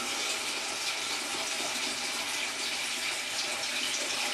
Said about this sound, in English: I'm just putting cold water in.